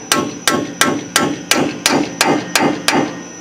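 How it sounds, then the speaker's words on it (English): Eight even metallic hammer taps on a bearing driver seating a new axle bearing ring out one after another at a steady pace, close and clear with no talking. "take a hammer and the bearing driver and just gonna"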